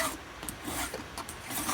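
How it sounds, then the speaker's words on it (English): A Vallorbe file rasps across a chainsaw chain tooth, giving several short, close scraping strokes in quick rhythm, fairly quiet, with no voices. "You put your file on top and you file it until we've removed the nut."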